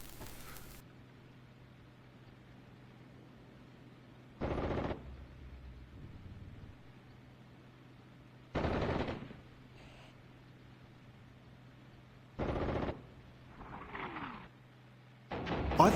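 Bursts of gunfire and autocannon fire from the tank battle game Armored Brigade 2 come in four or five short, separated volleys over a faint steady hum.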